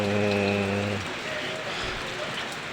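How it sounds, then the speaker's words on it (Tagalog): Rain falls in a steady, soft wash of hiss, following a moment of voice at the start. "maulan ngayon dito"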